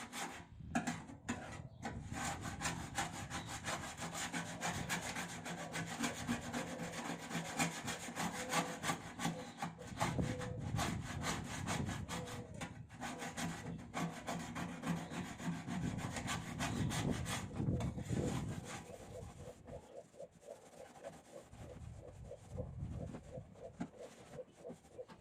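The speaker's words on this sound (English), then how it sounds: "we're going to use wet sandpaper until the metal is shiny." Wet sandpaper rubbed steadily over rusty, pitted microwave metal, a continuous close rasping scrub with back-and-forth strokes that eases off briefly near the end.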